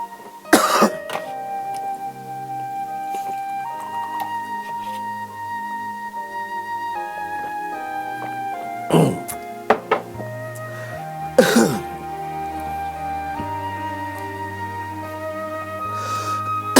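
A man coughs and clears his throat in a few short, sharp bursts spaced over several seconds, close and fairly loud over soft sustained background music.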